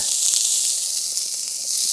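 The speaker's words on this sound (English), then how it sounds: "let it sizzle for another 2 minutes maybe" A steady, bright sizzling hiss of finely chopped onions frying on a grill, continuous and close, with faint crackles underneath.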